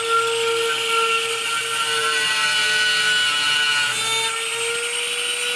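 Rotary tool bit cutting around an electrical box in a basement bathroom build, depth set to just over half an inch; a steady, loud high-pitched whine runs throughout with no pauses.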